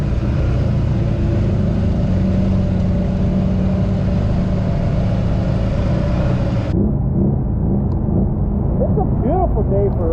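A turbocharged Honda Talon 4-seater 1000 side-by-side rumbles steadily at close range on a rainy ride, its engine drone continuous throughout, with voices talking over it in the second half.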